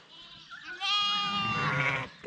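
A ewe on a farm gives one clear, wavering bleat lasting over a second, close and fairly loud, with no talk over it.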